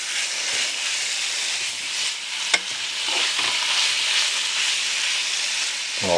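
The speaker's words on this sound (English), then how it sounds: "I basically just want to sear it." Meat searing in a hot pan for stroganoff, giving a loud, steady hissing sizzle with one sharp utensil clack midway and some scraping toward the end, close and continuous, with no speech.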